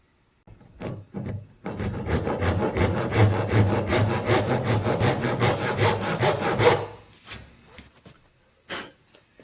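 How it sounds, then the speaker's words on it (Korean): Rhythmic back-and-forth strokes of a hand saw cutting through wood, steady and close, with a few separate rasping strokes before and after. "톱질은 나무를 잘라내는 작업이죠"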